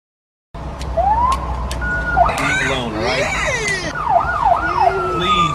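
An ambulance siren wails, sweeping up and down loudly, mixed with traffic noise and other swooping tones, no clear voices.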